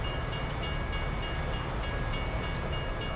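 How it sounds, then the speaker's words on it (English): A train rolling by in the Farming Simulator game, with steady rhythmic clicking of wheels over rail joints above a constant low rumble, fairly close and without any talking. "Train."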